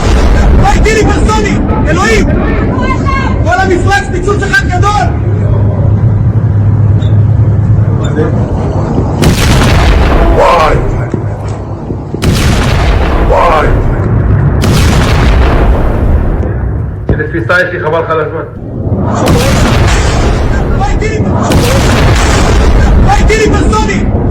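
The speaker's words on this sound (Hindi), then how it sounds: "ये तेल अवीव में आकर ईरानी मिसाइल हिट हुई है। ईरानी मिसाइल ने आकर हमला किया है।" Iranian missiles strike Tel Aviv, with several heavy booming explosions and bursts rolling out over the city, mixed with loud crowd noise and talking voices throughout.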